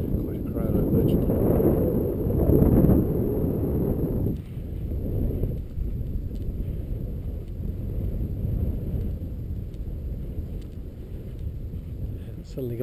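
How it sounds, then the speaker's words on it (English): Strong wind buffets the microphone on an exposed mountain top during a solar eclipse, a loud continuous roar that gusts harder early on then settles into a steady rush, with voices talking over it. "It's suddenly gone quite blowy, quite windy."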